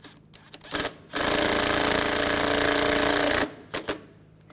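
A power tool runs a single steady burst of about two seconds, tightening screws on the radiator of a 2007-2013 Mini Cooper, framed by short clicks and quiet gaps before and after.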